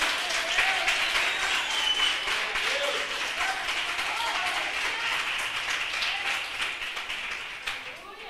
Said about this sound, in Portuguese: Vamos aplaudir esse menino.